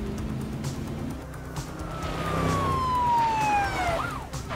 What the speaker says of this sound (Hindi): पीछे से पुलिस की गाड़ी आ रहा है।